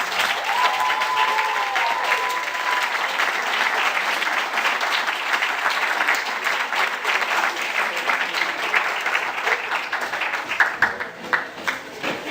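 An audience at a closing ceremony for a Yale scholar program gives the standing juniors a sustained round of applause, dense even clapping filling the hall for the whole stretch with faint talk underneath.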